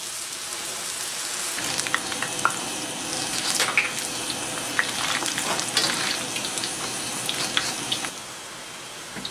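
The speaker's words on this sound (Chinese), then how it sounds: "茄子给它炸变色啊" Starch-coated eggplant pieces fry in a pan of hot oil for a Northeastern Chinese braised dish, giving a steady bubbling sizzle with sharp crackles that swells after the first second and eases near the end.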